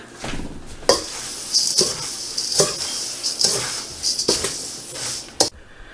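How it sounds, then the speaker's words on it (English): A spoon stirs dry oats and crispy rice cereal in a bowl, giving a run of close, scraping and rustling strokes with crisp clinks against the bowl, repeated about every second, with no voices. "we're just going to grab a spoon here and mix these all together"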